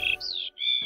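A single bright bird chirp from the Paw Patrol Rescue World game, a short rising-then-falling tweet with a brief gap, close and clear with no talk over it.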